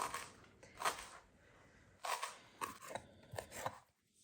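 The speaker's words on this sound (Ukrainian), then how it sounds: "І я так міленько-міленько ріжу петрушечку" Knife finely chopping fresh parsley on a board, heard as quick, crisp cuts in small bursts separated by brief pauses, close and fairly quiet, with no voices.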